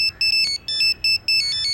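A mobile phone ringtone sounds as a rapid, regular series of high electronic beeps with short gaps between them. It stays clear and prominent over quiet background noise for the whole stretch.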